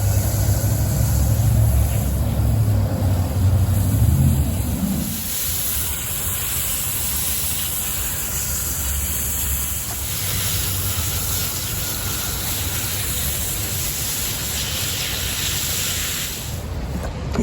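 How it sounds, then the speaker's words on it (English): A garden plant gets hand-watered: a low rumble opens, then a long, even hiss of spraying water runs steadily through the rest, fairly close and without voices. "now I'm going to go ahead and water this thing"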